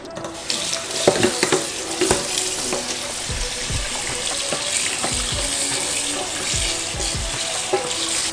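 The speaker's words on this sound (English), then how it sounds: "So what we're gonna do, we're gonna wash it first." Roast pork for crispy lechon kawali being washed under a running kitchen tap, steady splashing water with irregular thuds and clatter as the meat is handled in the sink.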